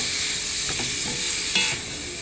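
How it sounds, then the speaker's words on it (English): A spoon stirs rasta pasta coated in jerk seasoning in a hot pan, with a steady close sizzle and a few soft scraping strokes, no voices. "Stir it up together. Make sure that jerk seasoning goes on everything."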